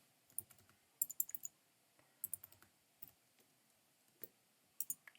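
Faint, quiet keystrokes on a computer keyboard as a Gremlin query is typed, sparse clicking taps in short clusters separated by pauses, with no talking.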